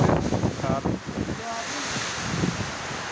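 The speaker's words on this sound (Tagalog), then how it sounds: "ang lakas pa ng hangin guys" Strong typhoon wind roars and gusts through a coastal area of La Union, loud and close, with a rushing, surf-like rumble. The gusts rise and fall, and brief voices come through underneath.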